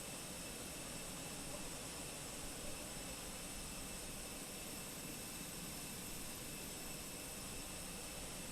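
The Fenix A320 sits in pushback in Microsoft Flight Simulator, giving a steady, even, broadband jet engine drone with a constant whine that stays unchanged throughout.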